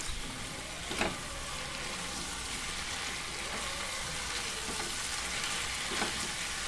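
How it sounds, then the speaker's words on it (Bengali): Chicken sizzles in a pan as it is sautéed with cumin powder and ground coriander for malai chicken, giving a steady close frying hiss with occasional stirring scrapes. "সমস্ত মশলাটাকে খুব ভালো করে চিকেনের সঙ্গে এবার কষতে হবে।"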